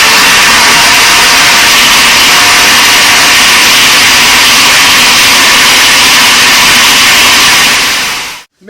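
A loud, steady whirring roar from a blender running at full speed blending tomatoes, continuous until it cuts off abruptly at the end.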